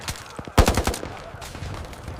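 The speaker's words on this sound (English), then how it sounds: "We're taking heavy fire!" Battle gunfire in a wartime combat scene, a sharp burst of several rapid shots near the half-second mark followed by scattered lighter reports and a rumbling background of distant fire.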